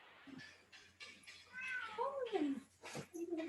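Children's voices imitate a cat, drawing out a few wavering meows in quick succession indoors, close and fairly quiet, with brief talk mixed in.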